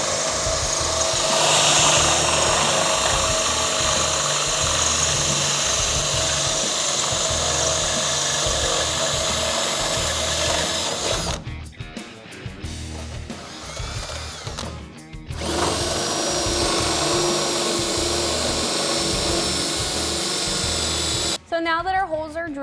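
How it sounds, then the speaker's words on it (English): A power drill with a 3/8 inch bit bores through an aluminum inner fender liner on a 2007-2018 Jeep Wrangler JK, a loud continuous whine that drops out briefly twice before resuming. "So now we can take a 3/8 inch drill bit and drill our final hole."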